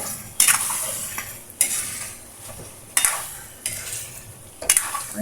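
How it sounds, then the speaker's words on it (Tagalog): Chicken sautéing in oil in a pan, a steady sizzle broken by a handful of sharp scraping stirs of a utensil against the metal, close and fairly quiet, with no voices. "Balikan na natin yung ating ginigisang chicken."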